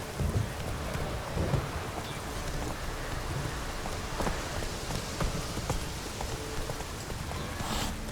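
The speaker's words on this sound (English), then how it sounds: "This downpour's a bastard, it is." Steady heavy rain pours throughout in the video game The Witcher 3: The Wild Hunt, with low thunder rumbling underneath and occasional sharper crackles.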